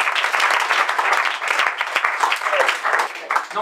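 Comedy club audience applauding, a dense, close, steady patter of many hands with uneven swells through the short burst.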